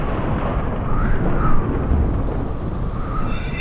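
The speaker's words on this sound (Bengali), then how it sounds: "সাথে শুরু হলো তীব্র বজ্রবিদ্যুৎ এবং মেঘের গর্জন।" Thunder rolls and rumbles through a steady downpour of heavy rain in a stormy night over a hilly jungle, a continuous loud wash of rainfall with low rumbling peaks, no voices.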